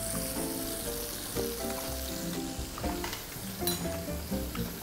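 Salmon fillets fry in a pan with a steady, moderately loud sizzle, crackling spits and some tonal hum underneath, no one speaking.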